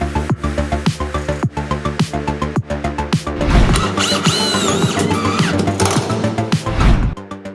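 A power drill drives screws into Plycem Fiberlit board during an interior exposed-joint wall installation: loud rhythmic pulses of the motor at first, then a sustained grinding whir as the screw bites in before it stops.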